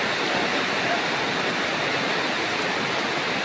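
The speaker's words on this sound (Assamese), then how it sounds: "পুৱাতে অহা এজাক ধাৰাসাৰ বৰষুণে কিদৰে ঘৰ দুৱাৰ বুৰাই পেলাইছে" Floodwater from a heavy morning downpour rushes through a village, a dense, steady roar of flowing water that fills the scene evenly from start to finish with no voices.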